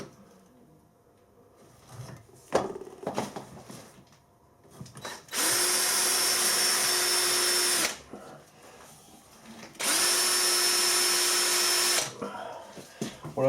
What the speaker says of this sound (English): Just going to use a centre drill to mark them.